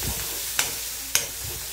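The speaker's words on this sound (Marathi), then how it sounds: "टमाटो टाकल्यानंतर व्यवस्थित असं परतून घ्यायचं" Chopped tomatoes are sautéed for a brinjal masala fry, giving a steady, close sizzle of frying. Two brief sharp stirring scrapes punctuate it.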